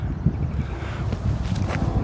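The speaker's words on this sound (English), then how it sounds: "It's windy." Steady wind gusts on the outdoor Ken Malloy disc golf course, a continuous low rumbling buffet against the microphone that stays fairly even and moderately loud for the whole stretch.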